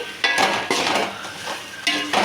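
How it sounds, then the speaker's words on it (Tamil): Spoon stirring and scraping potato fry with masala in a pan, several short close scrapes and clinks in an uneven rhythm. "இப்போ எல்லாத்தையும் மிக்ஸ் பண்ணிக்கலாம் எல்லாத்தையும் நல்லா மிக்ஸ் பண்ணால் நமக்கு உருளைக்கிழங்கு பொரியல் சூப்பராக ரெடி ஆகிடுச்சு"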